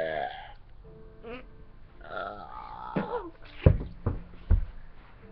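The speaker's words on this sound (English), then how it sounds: "Is that the loudest burp?" A loud, long burp lets out a gravelly croak, followed by several short sharp bursts and thumps, close and unscripted, with voices in the room.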